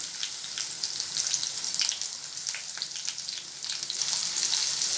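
Sliced large onion frying with garlic in a hot pan, a bright crackling sizzle that swells and ebbs with stirring, close and fairly loud, no talking.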